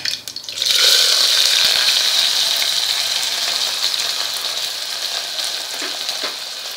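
Cumin, curry leaves and onion fry in a pan over medium heat, a loud, steady sizzle that starts abruptly and fades slightly as it continues, with no voices.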